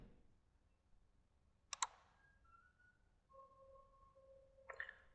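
A few quiet mouse clicks on a software OK button in Microsoft Dynamics AX 2012, accompanied by short electronic tones, in an otherwise silent room with no talking.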